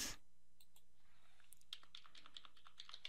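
Typing on a computer keyboard while editing code, a quick run of soft close key clicks after a brief pause, no talking.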